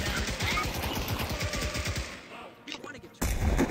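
Rapid automatic gunfire in the VR shooter Hell Let Loose, loud and close, a sustained burst of shots that drops away briefly before another heavy blast cuts in; no talk over it.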